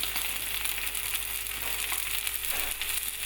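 Steak frying in a hot pan, a continuous close sizzle with faint crackles and pops running steadily, no voices over it.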